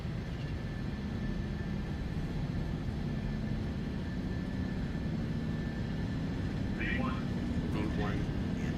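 Airliner engines roar steadily during a takeoff roll in Microsoft Flight Simulator 2024, a constant, broad drone that holds level throughout, with a brief voice near the end.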